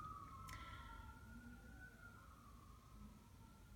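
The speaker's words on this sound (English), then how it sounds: "I apologize for the sirens." A faint, distant emergency siren wails with a slowly rising and falling tone against low background rumble.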